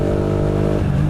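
A 600cc motorcycle engine and exhaust rev loudly and close up in one brief burst, the pitch holding high and then dropping off sharply near the end.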